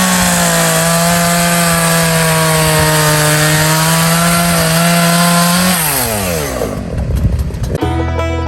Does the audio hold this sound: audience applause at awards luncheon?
no